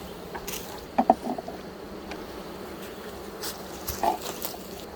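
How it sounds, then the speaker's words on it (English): Honeybees hum faintly around an open hive outdoors during a colony inspection, a soft steady buzz with a few brief clicks and knocks from handling equipment. "Look at all them bees there."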